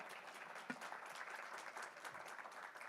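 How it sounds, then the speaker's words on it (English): An audience at a finance leadership event claps in steady continuous applause, soft and somewhat distant, with no voices over it. "Can I have a louder round of applause"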